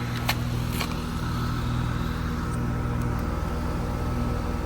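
A 2011 4-ton Bryant heat pump runs in heat mode with a steady low mechanical hum and drone, continuous and fairly close, with no voices.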